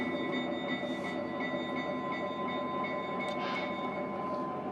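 A steady mechanical rumble and hum of a Lionel Burlington Zephyr model train running continuously on track, with a few faint higher squeaks and clicks, fairly close.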